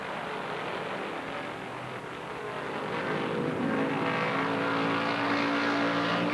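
Stock race cars at the 1968 Southern 500 roar continuously, a dense engine rumble that grows louder and fuller partway through as cars close in.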